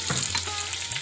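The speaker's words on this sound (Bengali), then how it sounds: "এর সঙ্গে আমি 4টে কাঁচা লঙ্কা ফোড়নও দিই।" Four green chilies temper in hot white oil alongside dried red chilies and bay leaves for a Bengali vegetable chhyachra, giving a loud, steady, close-up frying sizzle with crackling spatter and no voices.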